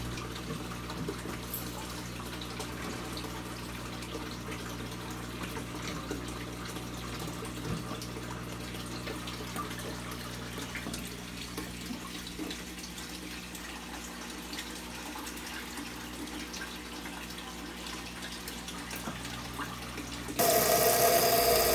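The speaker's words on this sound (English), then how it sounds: "I'll roughly rinse out the biomedia inside the filters with some tank water." Aquarium filter biomedia is rinsed out with tank water, giving a steady continuous splash and trickle of running water with a low mechanical hum beneath, louder near the very end and with no talking.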